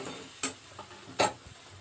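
Food being stirred and sautéed in a pan over low to medium heat, with two quick spatula scrapes over a faint background sizzle, quiet and close.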